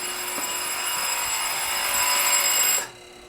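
An old telephone's bell rings in a sustained, loud metallic trill, steady for nearly three seconds before cutting off abruptly into near silence; no one speaks.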